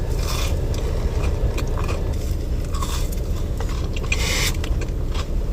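A Crumbl raspberry butter cake cookie is eaten up close, with repeated soft bites and moist chewing, crunching and scraping that are loud and intimate against a steady low background, with no talking.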